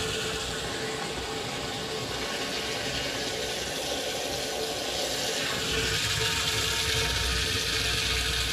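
Water pours out to water tomato plants in a garden, a steady, close gushing rush that grows slightly fuller partway through and keeps going with no talk.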